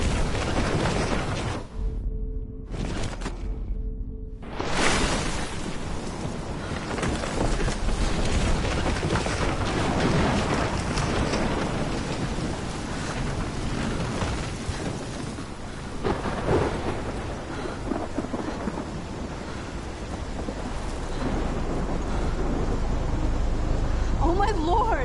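Thunderstorm with heavy rain in the video game Life Is Strange, set in Oregon: a dense, continuous roar of downpour with low thunder rumbling throughout, loud and close, briefly cutting out near the start before resuming.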